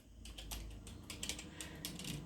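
Someone types a library email address on a computer keyboard: a short, quiet flurry of irregular key clicks close by, with no speech.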